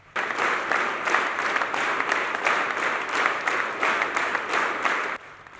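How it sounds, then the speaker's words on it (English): A large crowd at a church ministry event claps during a record-breaking longest-applause attempt, a dense, rhythmic patter with regular pulsing swells that cuts off abruptly near the end. "Participants engaged in a spirited clapping at varying intensities throughout the duration of the record-breaking event."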